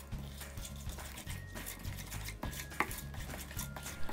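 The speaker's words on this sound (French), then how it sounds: "rajouter petit à petit le lait et mélanger jusqu'à obtenir le niveau de fluidité souhaité" Milk being stirred into cinnamon roll icing in a bowl, with steady rhythmic scraping and clinking of a utensil against the bowl, close and moderately quiet, no talking.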